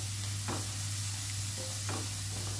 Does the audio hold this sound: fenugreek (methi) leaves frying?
yes